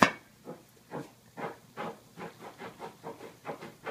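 A pot of vegetarian tamales steaming with a rhythmic puffing hiss, regular chuffing pulses about twice a second, close and steady with no talk.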